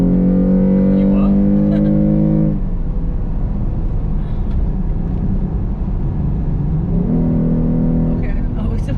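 Jeep engine revving and pulling hard at speed, a steady loud drone with harmonic whine rising near the start and again at the end, voices talking over it throughout.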